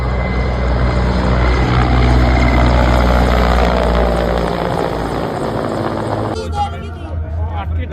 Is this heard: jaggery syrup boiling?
no